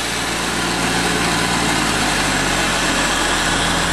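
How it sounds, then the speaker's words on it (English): A foam trailer's pump engine runs loud and steady, a dense continuous motor roar with little change in level across the few seconds. "The pump throttles down first."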